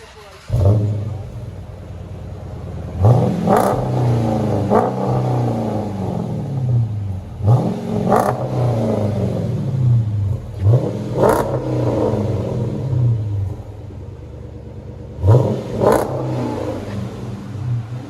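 A 2010 Dodge Challenger R/T 5.7L HEMI V8 revs hard several times through a muffler-delete Flowmaster Flow FX dual exhaust in deep, rumbling bursts, each surge rising then falling back to a throaty idle, loud and close.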